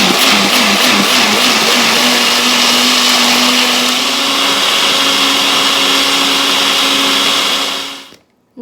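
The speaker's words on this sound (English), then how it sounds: "Now I am just blending it" A mixer jar blender whirs steadily and loudly, puréeing roasted bell pepper soup, its motor pitch shifting slightly as the contents smooth out before cutting off abruptly near the end.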